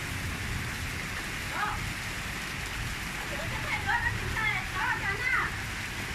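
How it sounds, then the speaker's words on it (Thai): Steady rain falling outdoors as a constant, even hiss throughout, with faint chirping calls scattered across the second half. "ฝนตก"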